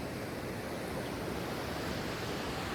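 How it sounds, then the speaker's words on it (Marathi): Sea waves wash steadily onto Velneshwar Beach in Ratnagiri on a quiet morning, a soft, continuous surf hiss and rumble with no voices, even and fairly faint. "पाण्याचा आवाज वगैरे एकदम शांतता."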